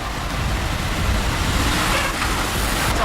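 Lamborghini Huracan with a dog clutch transmission, driven in a low gear at low speed, giving a steady, close engine and drivetrain drone heard from inside the cabin.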